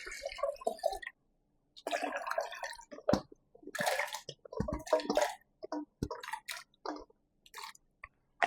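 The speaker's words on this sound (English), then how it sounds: "I'm going to add 3 cups of water to the blender" Water trickling and splashing in short bursts into a blender while coconut milk is being made, with wet drips and squishy sounds broken by brief pauses, close and fairly quiet.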